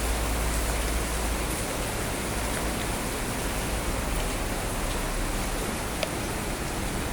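Heavy rain falls on a garden in Vizag in summer as a steady, even wash of hiss that stays at the same level throughout, with no voices.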